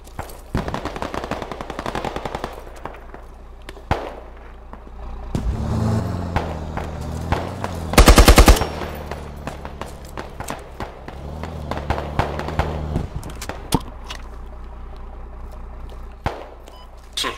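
MEA light machine gun fire in the Squad video game: rapid bursts of automatic gunfire come and go, and one loud, sharp volley stands out near the middle over a background of game rumble and distant shots.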